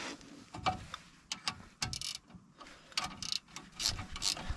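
Spanners tighten the front brake caliper bolts on a Mercedes-Benz C-Class W204, giving close, quiet ratcheting clicks and metallic taps in irregular bursts, with no voice.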